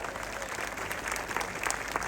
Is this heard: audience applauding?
yes